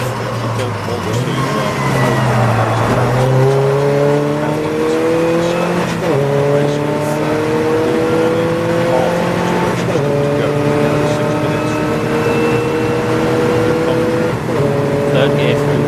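A VW Golf TDI race car at Snetterton during a 750MC Club enduro race, its diesel engine climbing in pitch through several gear changes, loud and close from onboard, with someone talking over it.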